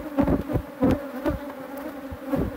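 A honeybee swarm buzzes around a hive, the drone rising and falling in loud close pulses, alone with no talking.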